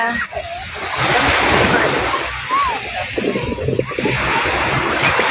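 Sea waves washing onto the beach at Laiya, Batangas, a loud steady surf roar with wind buffeting the microphone and brief voices mixed in.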